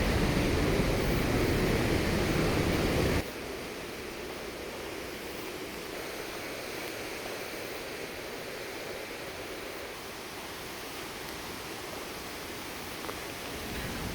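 A waterfall on Oregon's McKenzie River roars as a steady broadband rush, louder for the first three seconds and then a softer, even wash of falling water continuing alone.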